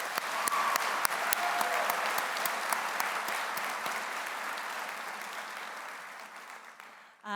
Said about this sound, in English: Another round of applause for the class of 2024.